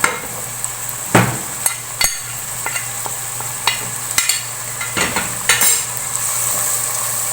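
A spoon stirs magz masala with salt, turmeric, coriander, chilli and garam masala in a frying pan, steady sizzling underneath while the utensil scrapes and knocks against the metal in irregular taps.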